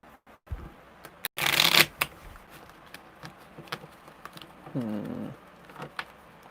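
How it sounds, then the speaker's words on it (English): Tarot cards shuffled in a quick riffling burst near the middle, framed by scattered soft taps and handling sounds, with a low hum later; close and fairly quiet, no speech. "Why are my cards not wanting to shuffle?"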